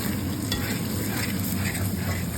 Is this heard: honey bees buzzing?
no